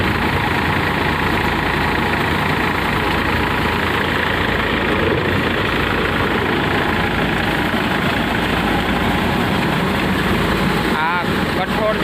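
A 47 HP New Holland 4736 tractor running a Natraj harbam thresher set for pulses, making a loud, close, continuous engine drone with a dense mechanical rumble that holds steady throughout.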